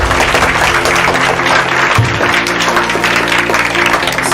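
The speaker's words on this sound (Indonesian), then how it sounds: "Tepuk tangan." A crowd at a junior high school gathering claps continuously, a dense, loud, even wash of applause with no pauses throughout.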